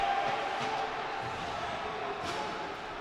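Spectators at a college ice hockey game, TCNJ against Oregon, keep up a steady roar of crowd noise and cheering after the goaltender's low blocker save, with a commentator's voice running over it.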